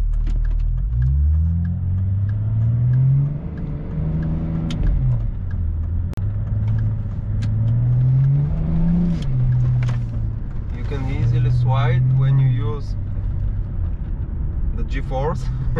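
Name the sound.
BMW E38 725 TDS diesel car engine in city driving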